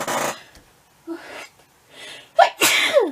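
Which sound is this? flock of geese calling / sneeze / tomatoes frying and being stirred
sneeze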